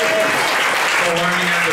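A crowd applauds at a coding bootcamp demo day in Tokyo, a steady dense wash of clapping across the whole moment with a voice briefly audible underneath.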